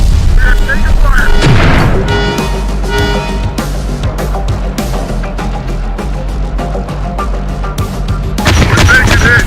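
Heavy gunfire and booming explosions in the Terminator Dark Fate Defiance video game, loud and continuous, with rapid bursts and deep blasts while voices talk over the battle.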